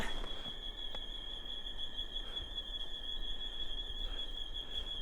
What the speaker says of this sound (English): That's the sound of the jungle.